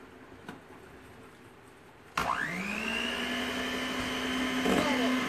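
Electric hand mixer whirs on at speed two while beating chocolate sponge cake batter, switching on abruptly and holding a steady loud whine with a rising pitch as it settles, after quiet room tone and a faint voice.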